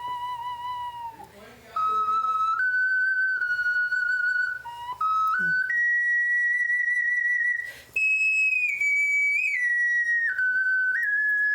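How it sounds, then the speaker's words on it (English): An ocarina plays a slow melody of long, pure sustained notes stepping between pitches, loud and close, with no voices over it. "She's playing the ocarina."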